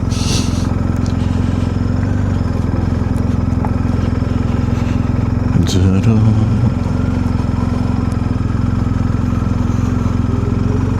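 A motorcycle engine drones steadily while riding on roads in Shetland, loud and close with constant wind rush, the steady hum rising briefly midway, with a voice mixed in.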